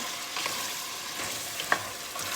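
Onion, meat and carrot frying in a pan, a dense continuous sizzle close by with a faint clink or two of the stirring utensil, no talking.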